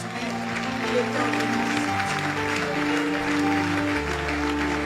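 A church congregation applauds in a steady, dense wash of clapping that runs throughout, with sustained organ-like musical tones beneath it.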